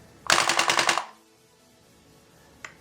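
A KWC mini Uzi gas blowback airsoft gun fires one loud, rapid full-auto burst of about a second, with distinct fast repeating cracks, followed by quiet and a single faint click.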